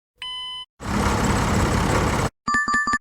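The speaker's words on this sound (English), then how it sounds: "To move to the next level, sound is tractor idling." Tractor engine idling with a steady, dense rumble for about a second and a half, loud and close, framed by short chime tones before and after.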